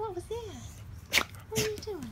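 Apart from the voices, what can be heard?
dog sneezing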